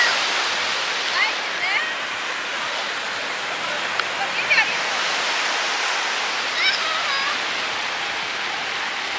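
Water flowing at Paliem Sweet Water Lake, a steady broadband rush filling the whole clip with no breaks, with faint chirps and small clicks above it and no clear talk.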